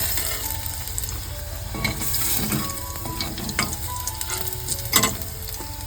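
Soybeans and the remaining vegetable ingredients fry steadily in an oiled pan, a continuous close sizzle broken by scraping stirs and a few clinks, with no voices.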